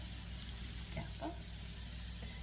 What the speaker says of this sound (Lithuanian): Svogūnai kepa.